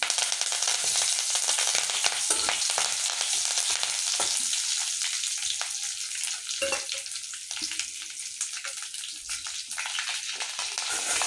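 Ginger, mustard seeds, cumin and curry leaves hitting hot oil for upma, a loud, dense sizzle with crackling pops that holds steady the whole time.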